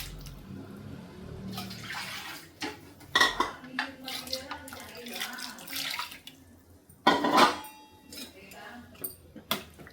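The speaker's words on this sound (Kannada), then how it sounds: "ಇದಕ್ಕೆ ಸ್ವಲ್ಪ ನೀರನ್ನು ಆ್ಯಡ್ ಮಾಡ್ಕೊಳ್ಳೋಣ." Water is poured into a pot holding a ground paste of chilli powder, coconut, chickpeas and poppy seeds for an egg and chicken curry, splashing in uneven bursts amid clinks of utensils against the pot.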